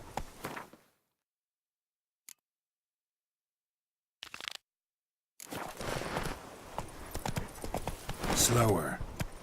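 Horse hooves clip-clopping in the video game Witcher 3, with a short burst at the start, brief hits midway, then a steady run of hoofbeats under talk and other game sounds in the second half.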